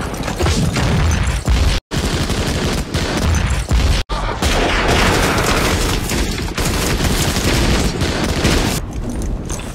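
Machine gun fire and explosive booms in a Lego World War 2 battle scene, dense sustained bursts of gunfire filling the whole stretch, loud and continuous with two brief breaks.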